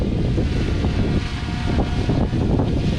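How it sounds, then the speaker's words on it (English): Strong wind buffets the microphone in a continuous roaring rush, with gusty swells and no voices. "It is very windy."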